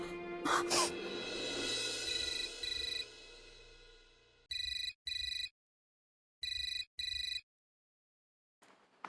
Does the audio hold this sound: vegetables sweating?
no